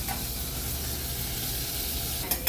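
Onions and leftover chicken bits fry in a pan over moderate heat, a steady close sizzle that runs throughout, with two quick utensil scrapes near the end and no talking.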